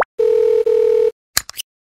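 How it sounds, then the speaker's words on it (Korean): A telephone call rings through with two long, steady ringback tones, loud and close, separated by a short gap and followed by a few brief clicks. "남편에게 전화를 걸어봅니다"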